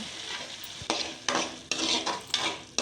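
Capsicum and macaroni pasta frying in oil in a pan, a steady close sizzle broken by several loud stirring scrapes spaced about half a second apart.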